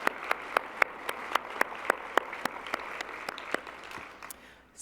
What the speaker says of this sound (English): We can applause for that.